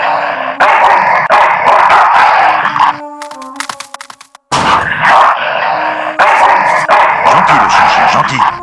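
Dog barking in the video game Full Throttle Remastered: loud, repeated bursts of barks with a short quieter gap of musical tones in the middle, then the barking resumes.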